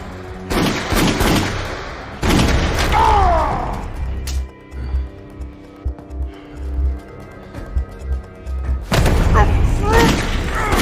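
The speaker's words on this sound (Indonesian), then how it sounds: "ketika setelah bertemu mereka langsung adu baku tembak" Gunfire in an action film shootout: loud bursts of gunshots and booms with crashes come in two heavy clusters at the start and end, a quieter stretch of rumbling effects between, with voices mixed in.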